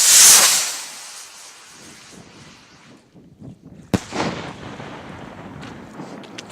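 New Year's fireworks outdoors: a loud hissing burst at the start fades out, then a sharp bang follows and a rumbling crackle trails off, moderately close.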